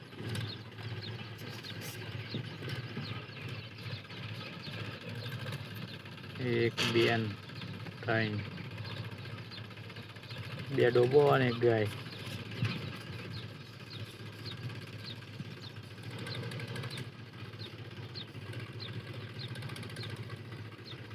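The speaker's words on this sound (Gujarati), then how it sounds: "તો તમને બતાવું એના માટે ટ્રેક્ટરનું કામ ચાલુ થઈ ગયું છે" A tractor engine runs at a steady low rumble during millet harvest work, heard at moderate distance throughout, while someone talks briefly over it twice.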